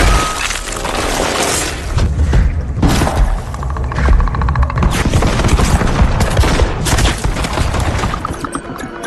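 Continuous loud blasts, rapid gunfire-like bursts and explosions from the predator's weapon in a 2022 action film, dense and booming throughout with crashing debris.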